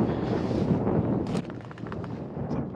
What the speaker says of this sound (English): Now comes the wind.